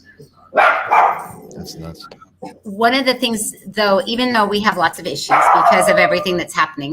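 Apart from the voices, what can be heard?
dogs barking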